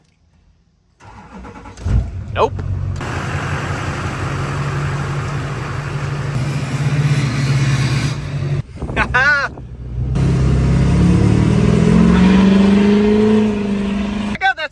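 A Duramax diesel pickup truck cranks and fires up, then idles loudly up close and revs several times, with a brief spoken word and a door or handling noise between revs.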